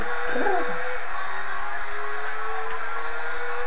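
A Nismo 240R Nissan rally car in Gran Turismo 4 revs and drones at speed, a steady, buzzy engine tone with a short rising sweep at the start.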